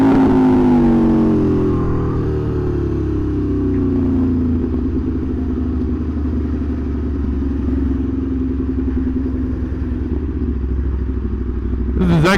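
A 2020 Aprilia RSV4 Factory motorcycle roars loudly and steadily while being ridden, its engine note sweeping down after a rev near the start then holding a throbbing drone, with wind rumble throughout.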